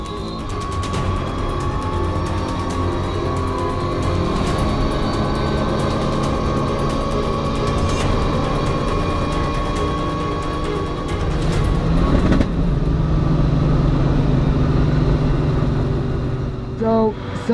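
Toyota Land Cruiser SUV engine during a high-speed run on a runway: a loud, sustained engine drone with shifting pitch throughout, rising in intensity near the end, with wind noise and voices faintly underneath.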